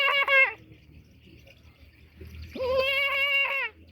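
A man imitates a goat, producing two nasal, wavering bleats separated by a pause, close and fairly loud against a quiet outdoor background.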